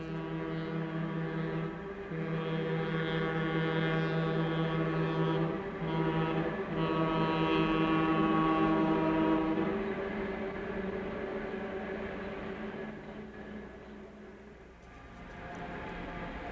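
A Milwaukee Road electric train on the Rocky Mountain Division nears Pipestone Pass Tunnel, giving a long, steady tonal hum with layered harmonics and a distant horn-like drone that swells and fades gradually.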